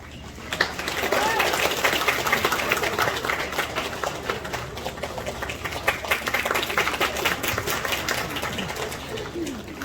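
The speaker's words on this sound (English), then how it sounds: "Can we all give a big round of applause to contestant number 6?" Audience applause for a pageant contestant at a medical college freshers' day, a steady rush of many hands clapping throughout, with voices and cheering mixed in.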